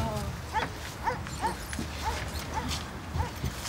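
Several dogs give short, regularly spaced barks and yips at a moderate distance, with background noise and faint voices mixed in, a greeting as people arrive home.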